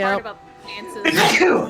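A sneeze bursts out amid lively group conversation and laughter, a single sharp, breathy burst right after a short stretch of talking, close and fairly loud with voices continuing around it.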